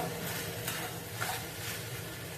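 Kerala style chicken curry masala sautéing in a pan gives a steady low sizzle with soft stirring scrapes, even and fairly quiet throughout, with no talk.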